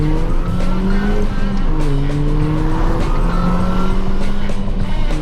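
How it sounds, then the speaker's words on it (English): An R53 Mini Cooper S on the move, its supercharger whining in rising and falling tones over loud, constant engine and road noise heard from inside the car. "I can hear the supercharger whine"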